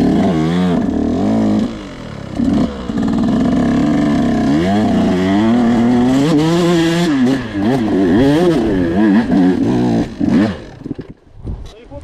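A KTM dirt bike engine revs up and down loudly and close by during enduro riding, whining and roaring continuously before dropping off near the end.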